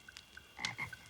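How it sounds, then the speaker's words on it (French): A wawaron frog gives a few deep, raspy croaks in quick succession, close and clear over a quiet outdoor background, with nobody speaking. "C'est juste un wawaron. Un wawa quoi? Une grenouille."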